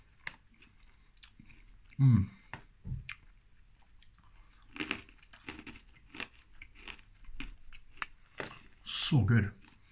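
Crunchy chewing of Snyder's of Hanover honey mustard and onion pretzel pieces, close to the mic, in a few loud bursts with a brief appreciative murmur between bites.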